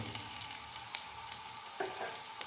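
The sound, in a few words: green chilies and onion frying in a pan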